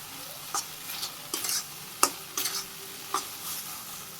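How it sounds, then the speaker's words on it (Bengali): Leafy greens with crushed garlic stirred in a pan, the spoon scraping in several short, separate strokes over a soft, steady sizzle, close and without voices. "আমি আর একটু রসুন ছাঁচা দিয়ে দিতেছি মিশিয়ে দিই নেড়ে চেড়ে নামিয়ে নিই"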